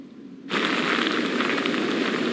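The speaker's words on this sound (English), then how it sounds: "the rain is still coming down. The wind is still blowing." Heavy rain and wind from Hurricane Francine in Houma, Louisiana, starting abruptly as a loud, steady roaring hiss of downpour that holds constant without pause.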